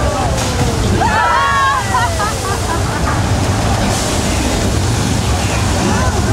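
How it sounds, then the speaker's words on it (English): Loud, rushing water surging and sloshing over a broad roar, with voices shouting faintly underneath: a staged flash flood at Universal Studios Hollywood, made by dumping thousands of gallons of water from a hilltop. "That flood is created by dumping thousands of gallons of water from the top of the hill."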